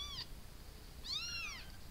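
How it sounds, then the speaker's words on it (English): A kitten meows twice as it is picked up, a short cry followed after a pause by a longer, rising-and-falling one, close but faint against quiet room tone. "as soon as I grab him, he starts to meow, which really pisses Dojo off"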